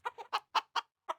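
Chickens on a DawnCraft farm cluck in six short, distinct bursts at an uneven pace, close and clear against silence.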